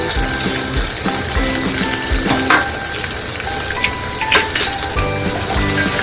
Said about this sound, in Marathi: आता बारीक चॉप केलेला कांदा टाकूया.